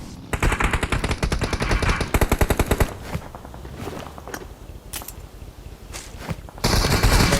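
Rapid automatic gunfire in a video game tournament match comes in dense, loud bursts, with a quieter stretch of scattered single shots before another heavy burst at the end.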